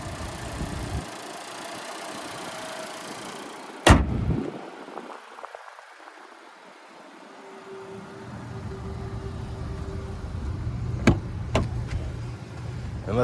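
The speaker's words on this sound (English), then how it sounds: "And there's that 2-liter naturally aspirated 4-cylinder engine." A 2022 Nissan Sentra's 2-liter naturally aspirated four-cylinder engine idles steadily up close, a low even hum, with a sharp clunk early on and a couple of faint clicks later.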